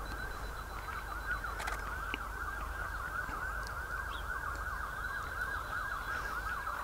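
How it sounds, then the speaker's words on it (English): An emergency vehicle siren wails steadily in the early morning, a continuous rising-and-falling tone heard from a moderate distance over a low outdoor rumble. "there's a siren as well, just to, for this time in the morning"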